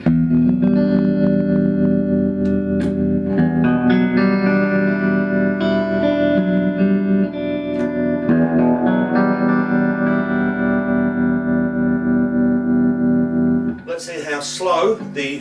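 Electric guitar played through a Lee Hodgson Romany TR20 amp with its reverb turned well up, sustained chords and notes ringing with a wet tail, loud and close, ending in a brief burst of noise near the end.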